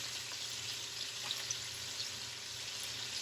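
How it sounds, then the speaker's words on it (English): Picanha steak sears in a hot pan with a steady, even sizzle. The hiss holds constant throughout, with small crackles popping up now and then and no voices. "we're just going to go ahead and flip this, So just kind of quickly sear"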